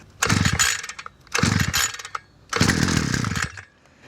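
A PROYAMA 51.7cc brush trimmer engine on a farm is pull-started three times, each yank giving a loud, close, rasping recoil-and-engine burst of about a second without catching, with short pauses between.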